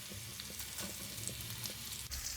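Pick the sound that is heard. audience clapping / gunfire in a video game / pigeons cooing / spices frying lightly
spices frying lightly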